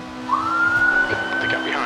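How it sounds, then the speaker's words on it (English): A single police siren wail in the racing game Assetto Corsa rises and then holds steady for about a second, sounding over a constant engine drone and faint voice chatter. "It's the sound of a police!"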